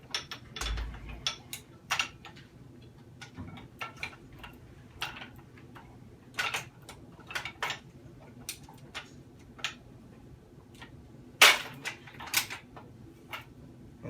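MK-19 grenade launcher rounds are pushed through the feed throat and across the feeder pawls, making sparse, sharp metallic clicks and clacks at close range over a quiet background, with no voices.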